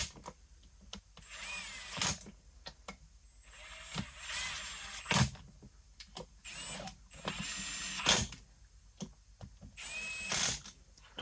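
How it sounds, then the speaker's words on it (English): A ratcheting wrench tightens bolts on an engine short block during crank bearing installation, with repeated short bursts of clicking ratchet strokes, close and fairly loud, separated by brief pauses. "Torque them appropriately with a torque wrench or whatever satisfies you to be torqued."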